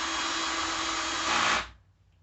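HART cordless impact driver running steadily at moderate speed, a loud close whine that lifts briefly in pitch before cutting off abruptly, leaving quiet room tone.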